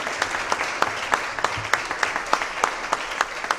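A congregation at a church service honoring a retiring senior pastor claps warmly, loud, even applause with sharp individual claps standing out, filling the hall without pause.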